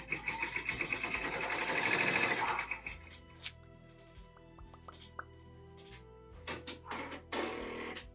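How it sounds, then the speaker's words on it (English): A machine embroidery unit stitching a lion's ear in the hoop, a fast mechanical needle rattle for a few seconds that stops, followed by scattered clicks and light handling noises. "So now the machine's going to stitch that other ear."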